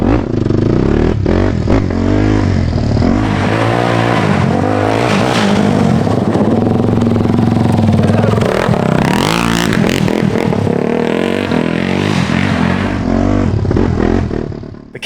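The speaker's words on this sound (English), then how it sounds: "Kawasaki KFX 450R." A Kawasaki KFX 450R quad runs loud and close as its engine revs up and down continuously during riding, with rattling and clattering over the roar and no speech.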